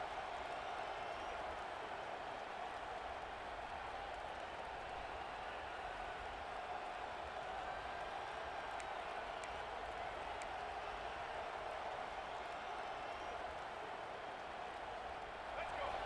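A stadium crowd in the video game EA Sports College Football 26 keeps up a steady, loud roar that holds without a break for the whole stretch.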